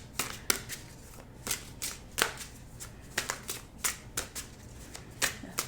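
Tarot cards shuffled by hand in a series of crisp, riffling bursts, about a dozen quick flicks at an uneven rhythm, close and fairly quiet with no talk.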